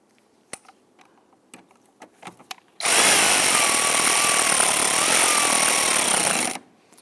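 A power tool snugs down the airbox base anchoring bolt on a 2011-2023 Dodge Charger 3.6L V6, preceded by a few light clicks and taps, then one steady, loud whirring run of about four seconds that cuts off cleanly.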